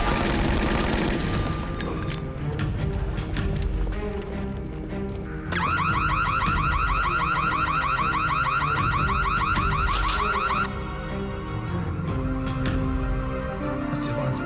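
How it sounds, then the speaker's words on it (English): A vault alarm in a sci-fi movie blares a rapid, pulsing electronic warble, loud and insistent, over a dense layer of action-scene sound effects and rumble. "That's the alarm for the vault."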